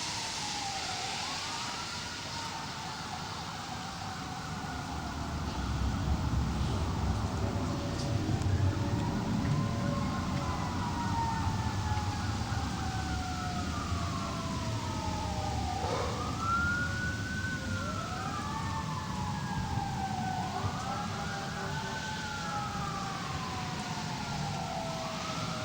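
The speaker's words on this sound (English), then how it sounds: "I can actually hear the sirens." Emergency vehicle sirens wail outside on a rainy day, repeated rising and falling tones over steady rain and traffic hiss, moderately distant and growing slightly closer.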